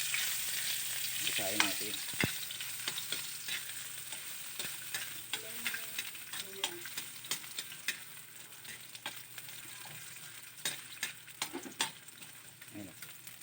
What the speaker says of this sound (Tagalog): Tapos ng mainit na mantika, ilagay natin ang luya.